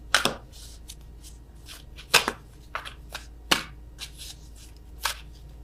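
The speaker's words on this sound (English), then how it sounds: "I am awful at attempting to shuffle these." A tarot deck is shuffled clumsily in a quiet room, giving several short, soft bursts of riffling and card slaps separated by brief gaps.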